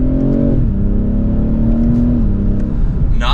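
The inline six-cylinder engine of a 2024 BMW 840i xDrive coupe in sport mode revs on a downshift, giving a steady, loud, close engine hum whose pitch dips and then holds before a brief rise at the end.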